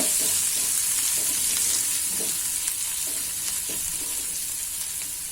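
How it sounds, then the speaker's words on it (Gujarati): Onion and garlic stirred in hot oil crackle and hiss steadily at close range, with soft scraping strokes from the stirring spoon and no speech. "હવે તેમાં આપણે ડુંગળી ને લસણ ખાલી આપણે તેલમાં ફેરવવાની જ છે"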